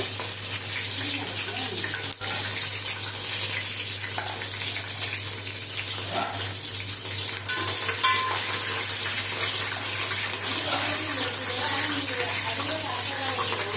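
Green chillies frying in hot oil with whole spices for a home-style biryani, a steady bright sizzle and crackle with occasional stirring clinks, close and continuous.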